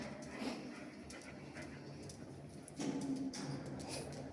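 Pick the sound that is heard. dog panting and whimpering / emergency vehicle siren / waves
dog panting and whimpering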